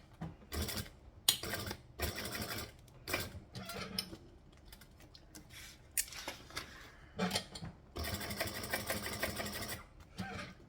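Short bursts of a sewing machine backstitching on a garment seam, quick mechanical whirring runs broken by pauses and small handling clicks, close by and fairly quiet, with a longer steady run near the end.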